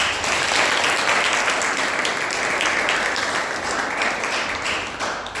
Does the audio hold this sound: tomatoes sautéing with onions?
no